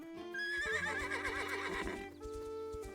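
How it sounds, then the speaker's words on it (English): A horse from the video game The Legend of Zelda: Echoes of Wisdom gives a long wavering whinny, close and clear, with hoof clip-clops and steady game music underneath. "Where's my stupid horse?"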